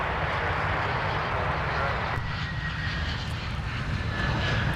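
A fixed-wing airliner lands at Minneapolis–Saint Paul airport on runway 12 right, a steady broad engine roar heard from a distance, holding level before easing slightly toward the end.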